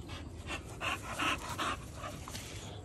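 A dog pants heavily close by in quick breathy bursts, a few louder gasps rising above a steady background hiss.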